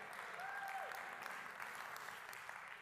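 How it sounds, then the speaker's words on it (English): A church congregation claps during a sermon, a faint, even patter of many hands that holds steady, with a brief tonal whistle or cheer rising over it early on. "Now you can clap."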